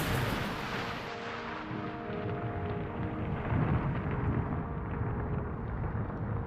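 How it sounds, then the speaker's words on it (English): Thunder from lightning striking a rocket launch pad in Florida, a heavy, sustained rumble that rolls on for several seconds, loud at first and swelling again midway, with no talk. "lightning strikes the launch pad."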